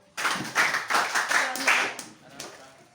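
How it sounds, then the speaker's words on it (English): Students clap together at a sanitation education visit in Agogo, a burst of handclaps that fades over a few seconds, with voices mixed in. "Please clap for him"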